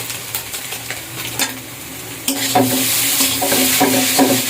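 Noodles tossed with masala being stirred in a hot frying pan: a steady sizzle under repeated scraping, clattering stirs that grow louder and busier in the second half, close by.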